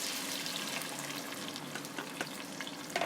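Tomato paste frying in a pan for chicken korma gravy, a steady close sizzle with small crackles and pops throughout, no one speaking.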